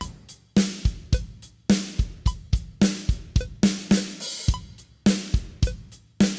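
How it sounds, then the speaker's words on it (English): A drum kit plays a steady groove, punchy kick and snare hits repeating in a regular rhythm with cymbal wash, close and loud. "So we've got a multi-track drum recording session here."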